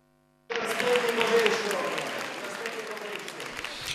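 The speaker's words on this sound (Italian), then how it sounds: "Tantissimi gli applausi" Applause from an audience begins abruptly after a moment of near silence, with steady clapping that gradually softens.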